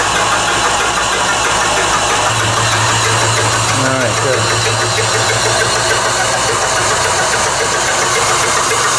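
A honey extractor motor runs steadily while spinning honey frames, a constant mechanical hum with a low tone that steps up in pitch as it speeds, under brief nearby talk.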